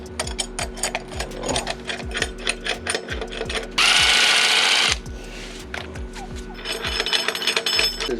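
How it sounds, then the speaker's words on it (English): Billet clamp screws being driven into a Polaris RZR Turbo exhaust clamp give a fast, close ratcheting clatter in repeated bursts, with a brief loud hiss partway through. "Put the screws in it."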